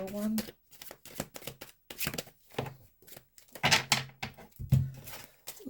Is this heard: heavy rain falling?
no